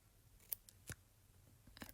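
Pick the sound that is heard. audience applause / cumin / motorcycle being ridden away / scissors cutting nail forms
scissors cutting nail forms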